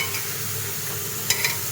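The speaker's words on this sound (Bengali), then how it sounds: "এবারে আমি নাড়াচাড়া করে নেব" Vegetables with papaya pieces and ginger-garlic paste sizzle in a pan under a steady hiss, with two quick scraping knocks from the stirring spoon near the end.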